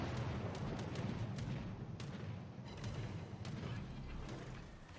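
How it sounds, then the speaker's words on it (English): Naval gunfire in World of Warships, with HMS Leander in the battle: repeated sharp cannon reports and booms fire in a rapid irregular series over a low rumbling background. "He's shooting, but he's overshooting my smoke by quite a margin."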